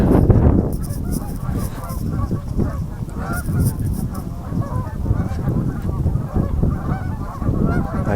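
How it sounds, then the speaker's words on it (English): Canada geese honk steadily by a breezy lake in a state park, a dense chorus of overlapping calls that continues without pause throughout. "Canada has imported their fair amount of geese here."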